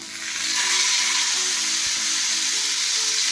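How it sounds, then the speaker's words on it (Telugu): A chicken leg piece sizzles in hot oil for tandoori chicken, a bright, continuous frying hiss that swells quickly and holds steady, close up, with a faint clink partway through. "ఇలా ఆయిల్ బాగా హీట్ అయింది కదా, ఇప్పుడు ఈ లెగ్ పీస్ మనం ఇలా పెట్టుకోవడం."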